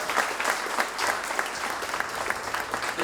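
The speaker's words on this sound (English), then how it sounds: "let's give them a round of applause" Audience applause at an awards dinner and ceremony: dense, steady clapping from many hands fills the room throughout, fairly loud and close, with no talk over it.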